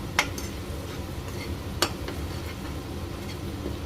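Masala frying in oil in a pan for a chicken curry made without tomato, curd or onion, a steady low sizzle broken by two sharp clinks of a spoon against the pan.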